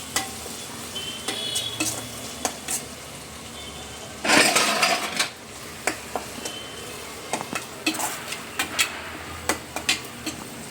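Ground coriander-cumin and garam masala sautéing in oil in a pan over a medium flame for khichdi, a steady soft sizzle broken by repeated sharp scrapes and clinks of a spoon stirring, with one louder burst of frying midway.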